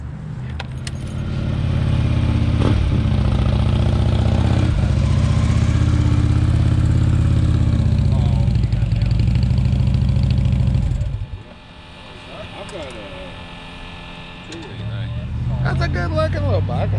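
A motorcycle engine idles steadily as it warms up at a bikers' rally, running loud and close for about eleven seconds, then dropping away to quiet background noise before it returns near the end. People talk nearby.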